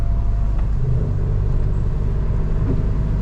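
Car accelerating hard in second gear, a loud, steady low engine rumble that holds throughout without a break.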